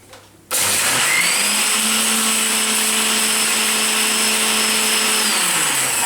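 A mixie grinder starts abruptly after a brief quiet moment and powders ingredients for capsicum bath. Its loud, steady motor whine runs unbroken, close up and alone.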